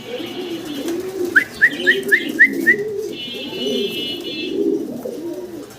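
Domestic pigeons cooing near the mic, low throaty burbling coos throughout, with a quick run of high chirps from another bird and a faint buzzing tone in the background.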